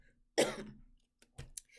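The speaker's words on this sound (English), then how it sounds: "But this cough is not a joke." A woman coughs hard in one burst, then gives two or three smaller coughs and throat-clearing sounds, close and alone with no talking.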